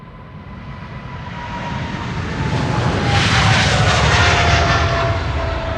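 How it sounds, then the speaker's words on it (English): A Chinese-operated Boeing 777 roars down the runway on takeoff at Amsterdam Schiphol, its jet engines building into a loud, sustained broadband rumble that swells and holds steady. "747 expected to land just as a Chinese triple is taking off."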